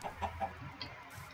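Chickens in the Minecraft video game give a few short, faint clucks in quick succession, then fall quiet.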